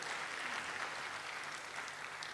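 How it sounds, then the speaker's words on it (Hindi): Audience at a motivational talk applauding, a steady wash of clapping hands that holds evenly for a couple of seconds with no voices over it. "आप लोगों ने ताली बजाई दोस्तों"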